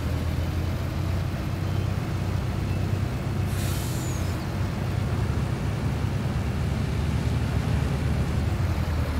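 An old truck engine in Farming Simulator 19 drones at a steady idle, loud and close, broken once by a brief hiss of released air.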